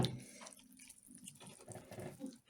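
Water is poured into flour for homemade lavash dough, a steady close splashing trickle lasting a couple of seconds with no talk.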